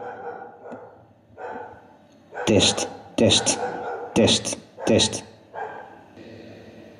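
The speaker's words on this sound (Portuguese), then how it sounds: "Um cão a ladrar" A dog barks in several loud, sharp bursts played through a Yamaha Stagepas 400 BT speaker as an ambient sound demo, with quieter sounds between the barks.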